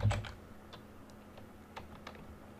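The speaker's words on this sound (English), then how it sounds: "then I'm going to start typing" Light, quiet typing on a computer keyboard while working with text in software: scattered single keystrokes, irregularly spaced and soft, following a louder bump at the start, with no talking.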